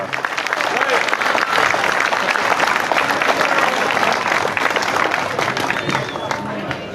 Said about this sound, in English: you guys ought to give yourselves a round of applause